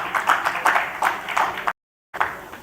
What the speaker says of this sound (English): Let's give a big applause to Sarbani